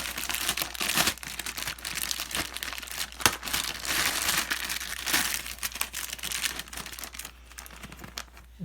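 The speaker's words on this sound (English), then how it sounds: "Now let's take off the plastic wrap" Plastic wrap crinkles and rustles in irregular bursts, close and fairly quiet, as it is pulled off a Dell Inspiron 17 laptop, with no talking.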